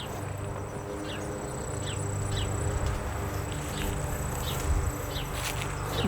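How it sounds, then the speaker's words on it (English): A bumblebee buzzes around flowers in a frost-bitten garden, its drone steady and faint beneath outdoor ambience, with occasional chirps heard in the background. "there's a bumblebee enjoying some of the pollen, nectar from the flowers"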